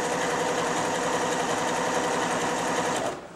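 A Janome 760 sewing machine runs a stitch pattern at steady speed, a loud, even mechanical whirring with rapid rhythmic needle chatter that stops abruptly just before the end.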